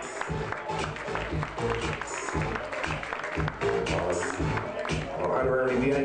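Wedding reception guests applaud steadily through a loud, continuous stretch of clapping, mixed with background music and an announcer's voice over a PA.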